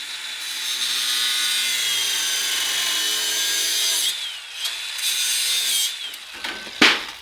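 A saw rasps steadily through the original spindle mount of a go-kart for about four seconds, then breaks into short uneven strokes ending in a sharp scrape, close and alone.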